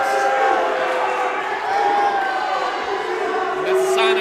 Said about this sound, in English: Mixed reaction here from the crowd,